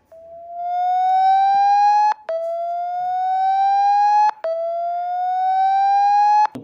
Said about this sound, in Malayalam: വലിയ ശബ്ദത്തിലാണ് ഒരു സൈറൺ മുഴങ്ങുന്നത് കേൾക്കാൻ സാധിക്കും